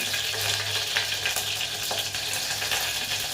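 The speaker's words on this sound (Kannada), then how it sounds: "ಇದಕ್ಕೆ ಚಿಟಪಟ ಅಂತ ಸೌಂಡ್ ಕೇಳಿಸ್ತಿದೆ ಅಲ್ವಾ, ಇದಕ್ಕೆ ನಾನು ಕರ್ಬೇವಿನ ಸೊಪ್ಪು ಹಾಕ್ತಾ ಇದ್ದೀನಿ" Curry leaves dropped into hot oil sizzle and crackle loudly and continuously, with sharp spattering pops over a steady frying hiss and a low hum, close up and with no talking.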